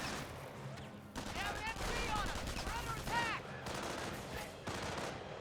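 Rifle squad gunfire in Company of Heroes, a steady stream of rifle shots and bursts heard at mid-distance, mixed with someone commentator's voice throughout.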